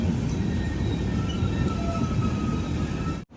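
A train pulls out of Ukshi railway station toward a tunnel, a loud, close, steady rumble of wagons with faint wheel tones throughout, cutting off abruptly at the end.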